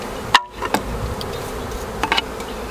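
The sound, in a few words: honey bees buzzing as they are shaken off hive equipment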